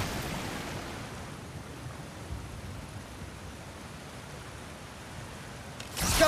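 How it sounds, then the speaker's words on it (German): Water in God of War Ragnarök flows over a frozen spot in a dwarven mine, making a continuous rushing wash that swells briefly near the end. "an der gefrorenen Stelle fließt das Wasser über."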